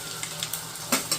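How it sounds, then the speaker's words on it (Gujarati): Asafoetida and sesame seeds crackle in hot oil for a Gujarati tempering, a brief, close, soft hiss broken by a few sharp pops, with no voices. "થોડી હિંગ નાખીશું, થોડા તલ નાખીશું વઘાર માટે."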